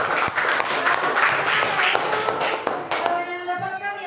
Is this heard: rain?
no